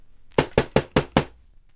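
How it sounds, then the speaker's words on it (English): Five evenly spaced knocks sound on a door in a story-record sound effect, loud, sharp and close, following a brief quiet lead-in. "There was a knock at the door."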